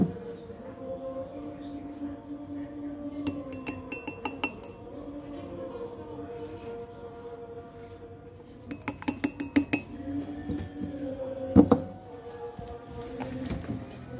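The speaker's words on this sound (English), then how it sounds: "now I need to add three spoons of cocoa powder" A spoon clinks repeatedly against a cup while cocoa powder is scooped in for homemade chocolate milk, bright metallic taps in bursts over a steady background hum.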